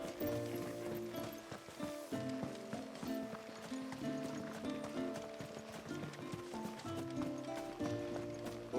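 Horse hooves clip-clop through a Final Fantasy XVI game scene, a steady trotting rhythm over a layered, busy musical score that stays at an even level throughout.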